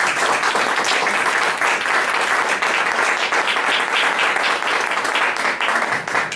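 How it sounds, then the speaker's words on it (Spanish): An audience at a Christian women's gathering gives sustained, dense applause, a loud continuous roar of many hands clapping with no break for several seconds. "les pido que me vienen a darle un aplauso a Dios"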